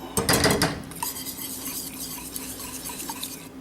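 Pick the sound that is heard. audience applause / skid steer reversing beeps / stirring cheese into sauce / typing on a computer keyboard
stirring cheese into sauce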